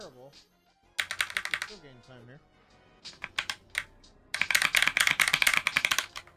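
Clicky keys being pressed on a Bubble Box controller, rapid bursts of sharp near taps in clusters, the densest rattle near the end, with a person talking between bursts.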